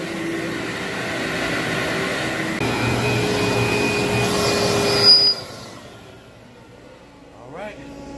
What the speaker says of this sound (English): vacuum all the floors in the house